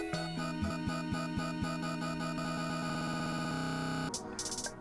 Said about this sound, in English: Then you've got a stutter effect.